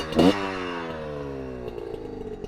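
A Kayo KT250 four-stroke dirt bike engine fires up nearby with a short loud cough, then settles into a steady, even idle.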